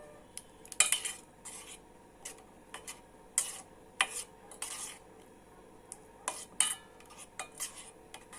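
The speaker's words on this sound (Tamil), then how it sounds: "இப்போ சோப்பும் நல்லா மெல்ட்டாக ஆரம்பிச்சிருச்சு. இதை நம்ம நல்லா கலந்து விட்டுக்கலாம்." A utensil stirs a beetroot and carrot soap mixture as it melts, producing quiet, irregular clinks and scrapes against the pot over a faint background hush.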